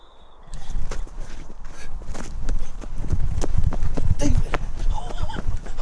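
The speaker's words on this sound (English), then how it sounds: "The last thing they hear is footsteps circling them before the activity finally fades." Heavy footsteps circle close by in the dark outdoors, a steady run of dull thuds and crunches with a hoof-like clop, carrying on at a loud, even level.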